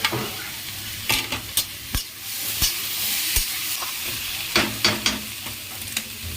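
Tomatoes stirred into a frying cauliflower curry: a constant oil sizzle underlies sharp, irregular scrapes and clanks of a spatula against the pan, close and clear.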